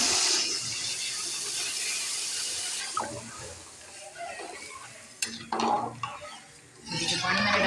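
Water goes into a pan of milk and sugar for halwa, with a soft hissing pour and splash, then faint stirring and clinks of a utensil against the pan, close and quiet with no speech.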